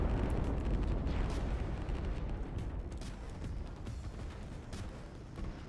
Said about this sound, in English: A rocket comes in anyway, and it looks like it's going to take out a lot of SAM units.